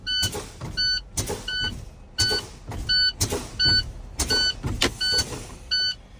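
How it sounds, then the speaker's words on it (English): Truck air brakes being fanned to drop pressure, with a rhythmic series of about eight short air bursts, each paired with a tonal chime, repeating steadily close by and loud, with no talking. "I'm going to go ahead and fan those brakes"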